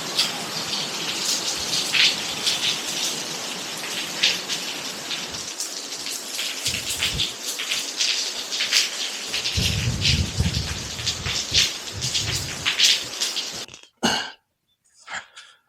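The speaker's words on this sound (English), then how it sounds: "the rain's blowing right into the front of the house" Heavy rain pounds steadily against the front of a house in Isan, Thailand, close and loud, with wind-driven gusts, then cuts off abruptly near the end.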